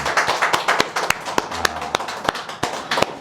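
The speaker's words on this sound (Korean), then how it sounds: "우리 주님께 한번 박수 한번 드릴까요?" Scattered sharp claps ring out in an uneven rhythm from a church congregation, a sparse group clapping rather than full applause, with faint background murmur.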